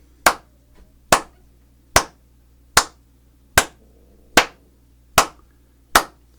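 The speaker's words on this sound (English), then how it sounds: "So here is steady beat for you." Hands clap a slow, steady beat, eight crisp, evenly spaced claps, close and loud with silence between them.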